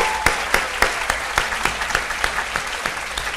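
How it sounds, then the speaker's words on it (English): Crowd at a journalism school commencement applauds award winners, a steady wash of clapping punctuated by a few loud, rhythmic nearby claps. "offer another round of applause to these incredible award winners"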